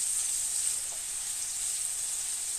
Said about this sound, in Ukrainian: Воно смажиться дуже швидко на великому вогні